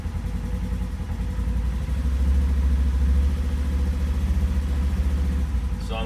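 A Polaris General XP utility vehicle on 32-inch tires with a Gilomen clutch kit, its engine idling low and then revving up steadily as the throttle is slowly pressed toward clutch engagement, droning loud and close throughout.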